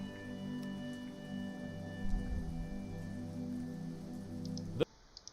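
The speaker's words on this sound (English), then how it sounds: "Relaxing Celtic music and rain ambience, 8 hours." Rain ambience mixed with relaxing Celtic music: a steady wash of falling rain sits under sustained melodic tones, holding at moderate loudness before cutting off abruptly near the end.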